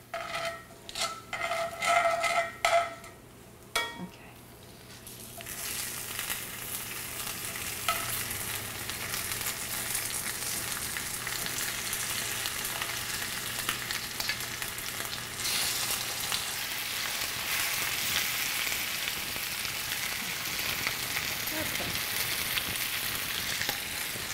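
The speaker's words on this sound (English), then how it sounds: "It's like a nice caramel brown right here. And at this point, I add the fish back in" Fish sizzles and fries in a caramel-brown sauce for Vietnamese canh chua soup, opening with a few clattering stirs, then a steady loud hiss that carries on without speech.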